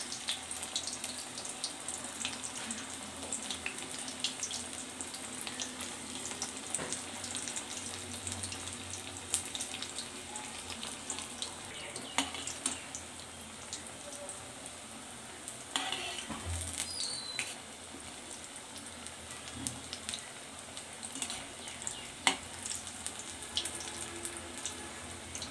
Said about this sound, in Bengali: এইভাবে বাদ বাকি বড়াগুলো সব ভেজে নিলাম